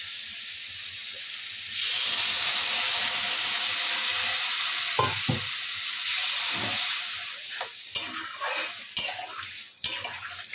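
Fish sizzles loudly and steadily in hot oil in a home kitchen pan, a constant close hiss with a few utensil clinks and pan knocks toward the end.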